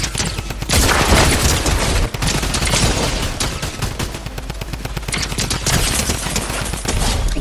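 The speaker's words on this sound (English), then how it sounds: "Please be a drum gun." Drum gun firing in the video game Fortnite-style shooter, rapid automatic bursts rattling almost continuously and loudly, with a brief gap near two seconds before the sustained fire resumes.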